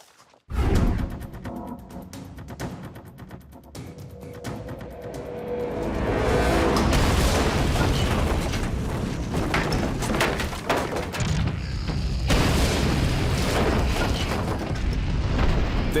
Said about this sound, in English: This explosion produces a pressure wave that travels at the speed of sound.